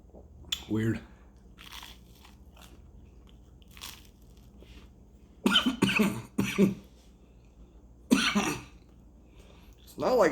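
Repeated harsh coughing and throat clearing from someone who has just tasted cinnamon pepper powder, in loud close bursts separated by quiet pauses, with no talking.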